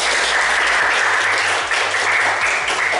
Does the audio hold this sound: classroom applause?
yes